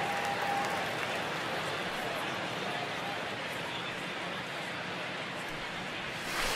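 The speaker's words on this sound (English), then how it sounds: "I can hear the crowd murmuring now" Steady, dense murmur of a baseball stadium crowd in the MLB The Show 19 video game, a continuous broad wash of background noise with faint commentary-like voices blended in throughout.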